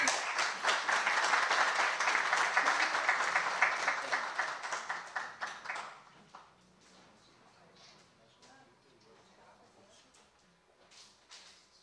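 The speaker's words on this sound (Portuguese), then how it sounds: "Uma salva de palmas." An audience at a seminar lecture applauds steadily and loudly for about six seconds, then the clapping thins out and fades to scattered claps and quiet room noise.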